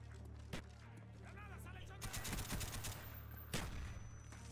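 M60 machine gun fire in Call of Duty: Black Ops, dense bursts of rapid shots under steady game background noise, with a sharp loud crack near the end.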